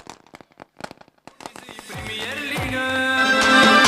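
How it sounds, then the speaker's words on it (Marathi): Firecrackers set off to welcome a guest at a village cricket premier league match: a string of sharp pops and crackles at first, swelling into a dense, loud, continuous burst of crackling bangs. "फटाक्याच्या आतषबाजीचं जोरदार स्वागत केलं जातोय"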